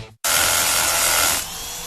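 A Bulldog rotary hammer power tool starts up abruptly and runs loud and steady, a dense mechanical whir close by that eases slightly near the end, with no voices.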